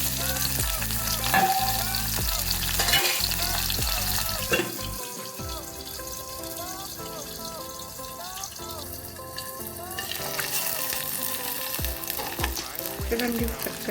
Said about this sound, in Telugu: ఆయిల్ కాచిన తర్వాత చూడండి, రొయ్యలు చక్కగా నీట్గా కడుక్కున్నాం కదా, కడిగి